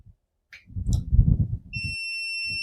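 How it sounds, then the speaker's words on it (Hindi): A buzzer in a refrigerator circuit, switched through a relay, sounds as a steady electronic tone after a low hum and some handling noise, close and fairly loud. "देखिए वो चालू किए और ये बजर बजना शुरू हो गया"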